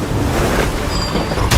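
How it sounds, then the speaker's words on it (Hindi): Flood water in a coal mine rushes hard and loud in a dense, unbroken roar across the whole short stretch. "पानी का फोर्स बहुत ज्यादा है।"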